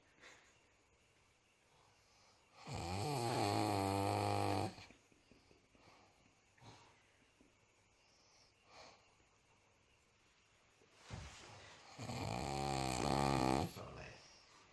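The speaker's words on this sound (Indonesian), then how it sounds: "sedang mentutorialkan caranya mengorok" A person snores loudly in two long, rasping, nasal bursts several seconds apart, with quieter breathing and faint background noise between them, up close.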